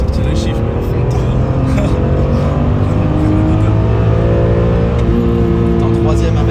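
A BMW M3 E46 engine pulls hard under acceleration from inside the cabin, its loud rising tone climbing steadily through the revs, with people talking over it.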